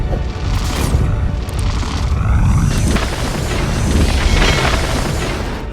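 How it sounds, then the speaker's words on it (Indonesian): A loud, rumbling gas explosion with sustained roaring and crashing debris that continues for several seconds, dense and close. "sehingga terjadi ledakan yang dahsyat"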